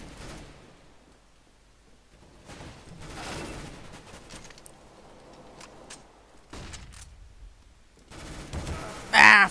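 Gunfire from Counter-Strike: Global Offensive play: bursts of shots come in several clusters with short gaps, and a louder crack lands at the end, with no talk over it.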